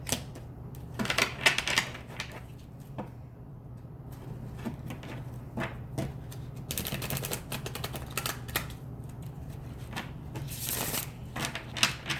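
Tarot cards being shuffled and drawn on a table, with quick riffling bursts and soft card slaps at close range, coming in irregular clusters between quieter gaps.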